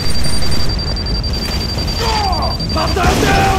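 Grenade blast in the Modern Combat 4: Zero Hour shooter game, a heavy booming explosion with a deep rumbling tail, loud and close, followed by gunfire and shouting voices amid a high whine.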